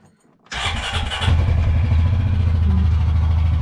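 A Honda Pioneer 500 UTV engine cranks briefly, then catches and settles into a steady, loud idle close by, with no talking.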